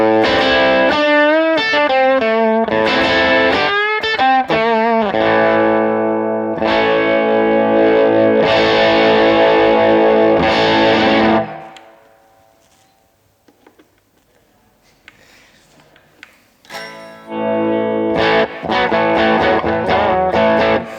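An electric guitar through a Chase Bliss Brothers drive pedal plays loud distorted riffs and sustained chords, breaks off into a near-silent pause with faint string noise, then returns with heavy driven strumming.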